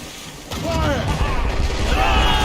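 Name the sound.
musket gunfire from the video game Assassin's Creed Rogue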